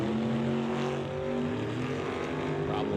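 Altered drag racing car at the start line of an old-time drag meet, a steady loud engine drone with harmonics shifting slightly as the throttle eases, heard at a distance without a break.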